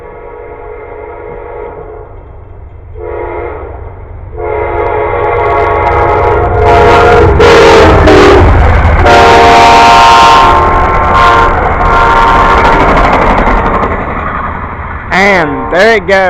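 A train passes close by, its horn sounding in several long blasts over a growing rumble of wheels and cars, ending with a final Doppler-bending horn note.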